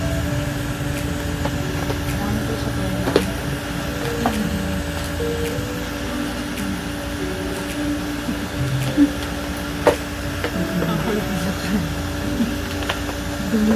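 A blower runs in a salon during cleansing before an eyebrow tint and lamination, giving a steady, fairly faint whirring drone with a few small clicks throughout.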